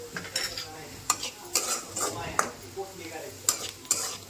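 Ground spices, garam masala and coriander powder, being stirred and mixed in a pan with a spoon, giving a faint sizzle under repeated sharp scrapes and clinks of metal on the pan, irregular and close, with no talking.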